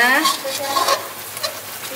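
Bird's eye chilies dropped into a hot frying pan for a spicy Indonesian cibay dish, making a brief loud sizzle and spatter followed by stirring clatter, heard alone.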